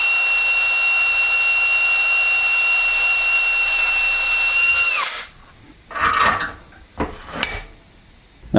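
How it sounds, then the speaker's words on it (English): Hand drill boring into a metal housing part: a loud, steady high whine for about five seconds cuts off abruptly, followed by a few short clattering bursts as the tool and part are handled. "gonna hand drill it"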